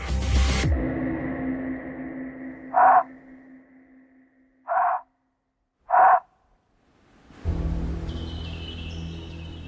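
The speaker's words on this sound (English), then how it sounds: "Bill activates the artificial thylacine call." Three short electronic calls, an artificial thylacine (Tasmanian tiger) call played from a device, evenly spaced and fairly loud, ring out over a quiet outdoor background with a steady low hum and distant ambience.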